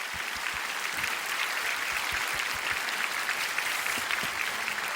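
A live audience at an evening prayer meeting breaks into steady, sustained applause welcoming a guest to the stage, a dense wash of clapping at even loudness throughout.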